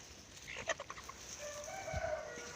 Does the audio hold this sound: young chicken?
yes